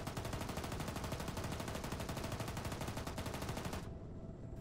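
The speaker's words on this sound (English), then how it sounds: "Make sure you shoot the same spot they're shooting at." Sustained rapid machine gun fire from a military tactical shooter game, a long continuous burst of close, loud automatic shots in quick rhythm that cuts off abruptly near the end, leaving quiet background.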